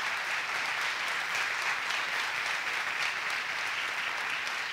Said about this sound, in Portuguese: Dê uma forte salva de palmas a Jesus